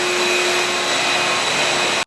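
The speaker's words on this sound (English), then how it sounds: "go back to our filter controller and turn our vacuum off" The vacuum of a regenerative media filter runs loud and steady, a constant whooshing hum with a tonal whine that cuts off abruptly near the end.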